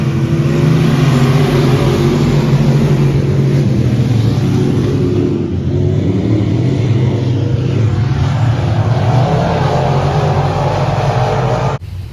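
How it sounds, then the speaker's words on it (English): Late model race cars tear around a dirt track in a loud, continuous engine roar that holds steady from start to finish, with no voices over it. "settled in to watch some late model racing"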